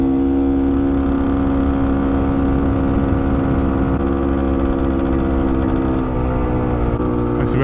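Bultaco Alpina 350 motorcycle engine running steadily on a road, a loud, close, continuous drone with sustained throttle, no talking.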